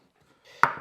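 A knife coarsely chops local garlic on a board: one sharp, close chop after a brief soft rustle, with a faint second knock right after.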